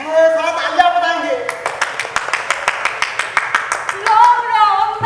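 An audience at a theatre festival performance claps in a quick, even rhythm of sharp, close claps for a few seconds, framed by singing voices before and after.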